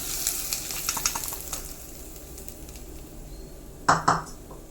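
Dried chili and curry leaf tempering poured from a hot pan into egg aviyal, a Kerala egg curry, giving a low steady sizzle that ends in two sharp loud bursts of hissing as the hot oil hits the curry.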